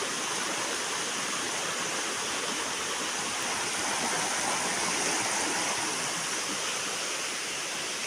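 Water rushes steadily near a well in rural surroundings, a loud, unbroken broadband roar like a stream or small waterfall that holds constant from start to finish with no voices.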